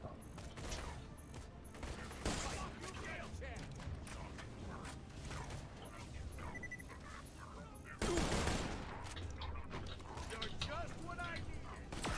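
Rapid gunfire from a weapon in Borderlands: The Pre-Sequel, dense bursts of shots with mechanical clicks and clatter, growing louder in the latter part, with a voice talking over it.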